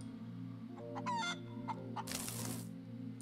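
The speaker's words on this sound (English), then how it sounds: "Why does he put the chicken on it?" A chicken in the space survival game Breathedge clucks in a few short bursts over a steady low mechanical hum, followed by a brief noisy rush.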